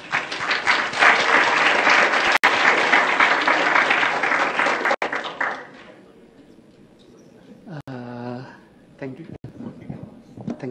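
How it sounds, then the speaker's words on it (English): Audience applause welcoming a guest lecturer at an architecture school: dense, sustained clapping for about five seconds that fades out, followed by a quieter room with someone speaking briefly. "let's kind of welcome him with a short applause"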